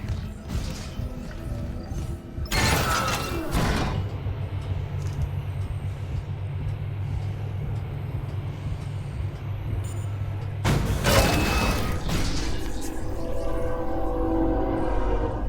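A train running in the horror video game Dead Space, a loud steady rumble with a low droning hum, framed by two bursts of heavy mechanical roar near the start and end, with no talking.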